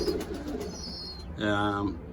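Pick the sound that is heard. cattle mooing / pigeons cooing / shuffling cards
pigeons cooing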